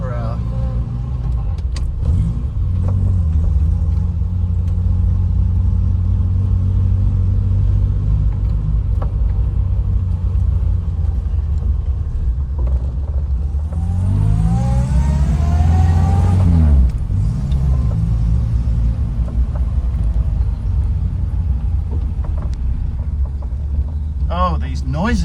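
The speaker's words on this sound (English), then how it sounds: "The whine of the gearbox, the rasp of the exhaust, followed by the trombone." An old Morris Minor engine rumbles continuously with a rising gearbox whine and raspy exhaust as it accelerates, then settles back into a low drone.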